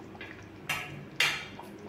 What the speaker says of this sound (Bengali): 2 মিনিট পরে আমি ঢাকা খুলে নিচ্ছি।